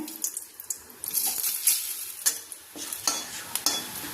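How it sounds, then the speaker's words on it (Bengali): Whole garam masala spices crackling in hot tempering oil, a close, busy sizzle with bursts of spatula scraping and stirring, some sounding almost watery, in an irregular rhythm. "আমি গোটা গরম মশলাগুলো দিয়ে দিলাম ফোড়নে"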